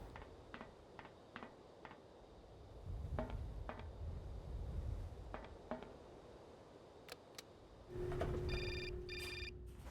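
A cell phone rings with a bright electronic melody near the end of a scene in the video game Syberia, heard over a low rumbling ambience with scattered clicks before it.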